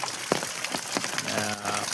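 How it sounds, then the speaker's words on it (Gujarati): Heavy rain pours down on a village in Gujarat, a dense, even hiss with scattered sharper drops striking nearby surfaces, and a faint tonal hum rises toward the end. "આ જોરદાર વરસાદ પડ્યો છે ગુજરાતમાં"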